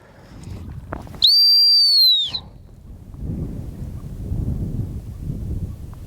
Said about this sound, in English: I'm going to give her another stop whistle with a traffic cop stop too.